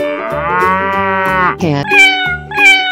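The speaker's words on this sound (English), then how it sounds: "Cat." Drawn-out cartoon cat meows from a children's animal transformation video, three loud, clear, tonal calls, the first long and sustained, the next two shorter and rising, with nothing else audible.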